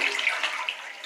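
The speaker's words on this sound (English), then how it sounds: "We're going to flush it to show how good this flush is now that I have" A 1998 Crane mint green toilet flushes after tank modifications, a steady close rush of water with no talking over it.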